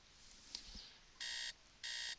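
A digital alarm clock rings in the video game Me, The Singularity, giving two bright, evenly sustained electronic bursts separated by a short gap over a quiet background, with no voices.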